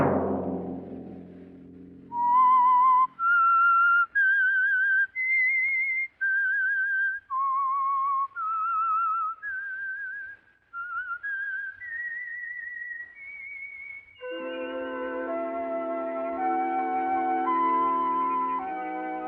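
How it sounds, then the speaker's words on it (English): A whistled theme melody from The Whistler, a 1952 Signal Oil radio drama, rises and falls as a clear solo line of separate notes. Then a full musical accompaniment swells in beneath it. "Let that whistle be your signal for the Signal Oil program, The Whistler"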